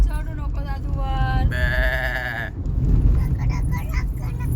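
A couple of quavering sheep bleats ring out close by on the Narayangaon bypass road, one after another, over a constant low vehicle rumble that continues after they stop.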